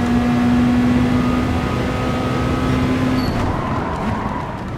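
Racing cars in Gran Turismo Sport on the Interlagos circuit, engines droning loudly and steadily while tires squeal in long sustained skids before the noise eases slightly near the end.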